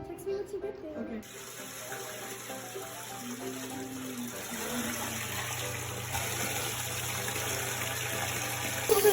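Water runs steadily from a tap in a dorm bathroom as dye is rinsed out of hair. The flow hisses continuously and grows slightly louder toward the end, with faint voices in the background.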